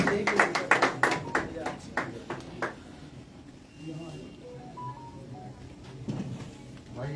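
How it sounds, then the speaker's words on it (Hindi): A few seconds of sharp, rhythmic hand claps from a small audience welcoming a guest at a poetry festival in Raebareli, fading into a quieter room with faint voices and stray sounds afterward. "आप सबसे निवेदन करता हूं कि जोरदार तालियों से स्वागत करें।"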